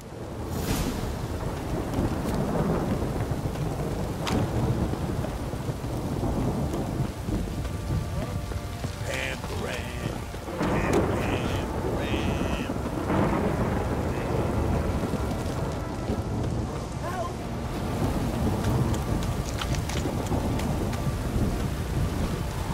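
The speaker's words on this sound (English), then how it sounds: "This downpour's a bastard, it is." Heavy rain pours steadily in the video game The Witcher 3 while rolling thunder rumbles and cracks throughout, dense and close, with faint scattered voices in the mix.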